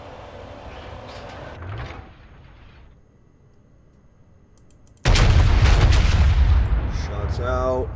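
Battleship main guns firing in World of Warships, North Carolina BB-55: after a stretch of low rumble, a massive booming salvo erupts loud and close, rolling on with dense reverberating roar.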